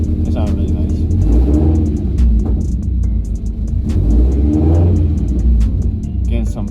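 A modified car engine with an open or partial exhaust revs up in loud surges, crackling exhaust pops between throttle blips, close to the listener amid voices.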